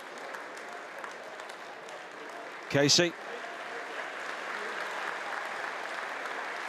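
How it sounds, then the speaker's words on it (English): A Swansea City football crowd at a League Cup match against Crawley Town applauds at a distance, a steady soft wash of clapping, with a brief spoken word cutting in partway through. "you can hear the Swansea crowd warming to the way their team are trying to play their football here"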